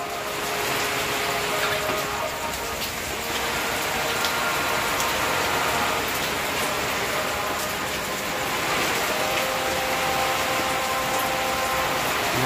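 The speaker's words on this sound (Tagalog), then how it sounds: "Ang lakas na po ng ulan dito, kaya ingat po tayo lahat" Heavy typhoon rain at a house in Camarines Sur pours in a steady, loud hiss with no letup, water splashing on surfaces while wind adds a dull roar beneath.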